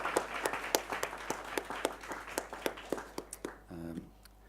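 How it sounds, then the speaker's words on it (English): An audience applauds the winning team at a closing ceremony, with scattered individual claps at a steady pace, moderately close, that thin out toward the end before a short electronic tone. "Round of applause for them."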